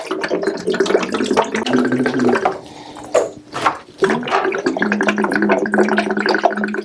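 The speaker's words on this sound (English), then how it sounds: "So we'll get these guys filled up with water." Water pours into small hydroponic garden reservoirs from a Click & Grow 3 and AeroGarden Sprout, a close gurgling fill with shifting pitch and brief pauses, no voices.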